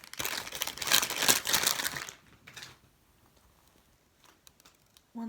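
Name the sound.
squeezing a squishy foam toy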